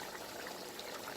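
Water trickles steadily into a pot of brown stew chicken, a soft continuous pouring hiss with no talk over it.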